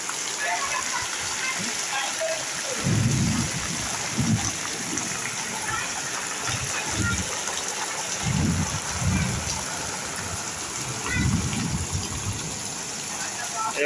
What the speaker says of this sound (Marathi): खतरनाक पाऊस सुटलाय